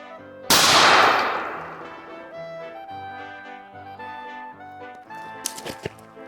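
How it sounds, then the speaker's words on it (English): A shotgun fired at close range at a soldier silhouette target outdoors: one loud sharp blast with a long ringing decay, then faint clicks and handling sounds of the gun a few seconds later. "I'm gonna try just a kind of a close meat shot to the soldier silhouette"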